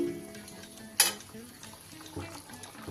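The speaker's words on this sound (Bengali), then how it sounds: "সবকিছু ভালোভাবে মিশিয়ে দিচ্ছি" A spoon stirs tomato chutney with cashews and raisins in a pan, giving soft scraping and a sharp clink against the pan at one point, with a gentle background hiss.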